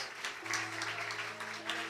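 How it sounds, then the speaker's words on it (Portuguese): A church congregation applauding during a worship service, the clapping steady and moderately loud beneath sustained keyboard or organ tones. "Aplauda Jesus Cristo."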